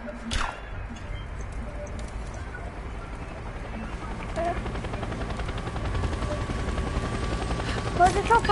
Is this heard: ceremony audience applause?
no